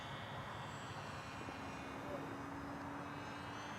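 A ReadyMadeRC Mini Skyhunter RC plane flies tight figure-eights over a runway, its small motor giving a faint, distant whine against the outdoor background.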